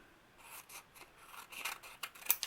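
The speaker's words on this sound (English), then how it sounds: "I'm going to go ahead and trim it around here" Scissors snip and slide through paper while trimming a craft piece for altered paper clips and envelope booklets, a close, quiet run of short cutting strokes that grows slightly louder toward the end.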